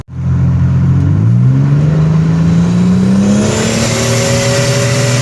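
A 1999 Buick Regal GS with an upgraded 58mm turbo revs hard under a bridge, its engine note climbing steadily in pitch over several seconds, loud, close and echoing, with a faint turbo whine above and no talking.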